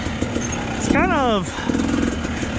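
A KTM 250 two-stroke dirt bike geared 12/50 crawls slowly over rocky ground, its engine giving one brief rev that rises and falls over the steady drone. Someone talks throughout.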